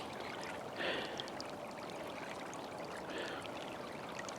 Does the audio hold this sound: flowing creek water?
yes